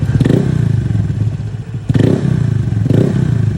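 A Honda Click 125i scooter with an aftermarket Kenochi exhaust pipe rumbles loudly up close at idle, with a deep throaty burble and two brief throttle blips.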